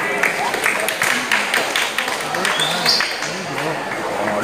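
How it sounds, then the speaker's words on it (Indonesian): Applause at a pencak silat awards ceremony for a branch team at a regional SH Terate youth competition in Kebumen, dense clapping from a crowd under a loud announcer's voice. "tepuk tangan yang meriah untuk Ranting Alian"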